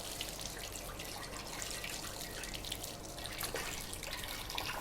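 Tap water runs continuously into a sink while brown bread is washed, a steady faint splashing rush with no talking.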